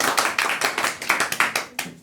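A quiz audience gives hearty applause for a correct answer: about two seconds of close, uneven hand clapping in quick bursts, with no voices over it.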